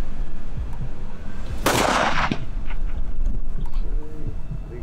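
A single loud rifle shot cracks out during a safari hunt, a sharp broadband blast that rings briefly before fading into outdoor ambience, with no talk.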